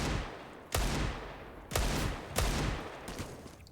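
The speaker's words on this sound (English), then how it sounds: "Oh, 2 more bullets in that deagle." Three loud, sharp Desert Eagle pistol shots ring out in Counter-Strike during an ESL Pro League match, spaced about a second apart and followed by a fainter fourth at the end.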